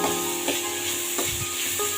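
Steady sizzling of onions, green chillies and curry leaves frying in hot oil, with a few soft scraping stirs of a spatula against the pan.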